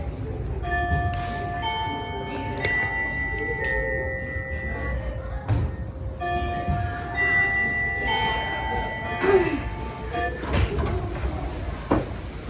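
A bell signal marks daytime in a mafia game played in a theater, heard as several sustained ringing tones layered over a murmur of room noise, with a few short knocks scattered through.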